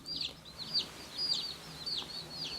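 Day-old baby chicks peep in a quiet indoor room, a steady run of high, thin chirps repeating at close range over a soft background hiss.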